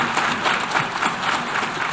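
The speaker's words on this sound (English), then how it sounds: "Sustained applause after his speech" Sustained applause from a large assembly following a speech, dense and even clapping filling the whole stretch at a steady level with no voices on top.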